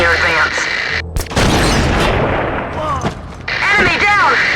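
Gunfire in the PS2 shooter Black crackles through the clip in heavy, loud booming shots and bursts. A radio-style voice talks over part of it.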